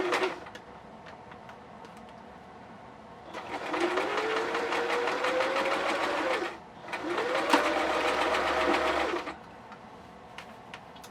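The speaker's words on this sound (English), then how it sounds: "we're going to top stitch all the way around" A sewing machine top stitches around a small jack-o'-lantern hand warmer filled with flaxseed, running in two steady bursts of about three and two seconds with a short pause between, fairly close and loud.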